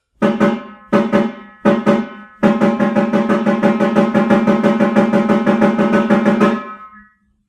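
Three short marching tenor drum rolls of clean, even double strokes, then a long sustained roll with a steady, dense pulse, loud and close, ending abruptly.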